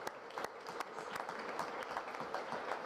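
Audience applause at a United Nations meeting on migration capacity development, a steady dense patter of clapping with some sharper individual claps, moderately distant and continuous throughout.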